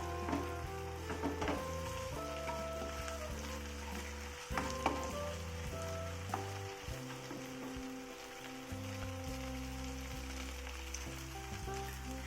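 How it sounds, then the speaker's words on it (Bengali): Ginger paste hits fried onions in a hot pan, giving a close, steady sizzle with light stirring scrapes over a faint tonal background hum. "পেঁয়াজটা ভাজা হয়ে গেছে, এর মধ্যে আমি এবার আদা বাটা দিয়ে দিলাম"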